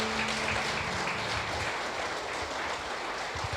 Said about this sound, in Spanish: Den un aplauso al Señor entonces.